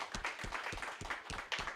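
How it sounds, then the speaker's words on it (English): Brief, moderately quiet applause from a small crowd at a school band telethon, steady patter of hands clapping with no voices. "Let's give them another round of applause."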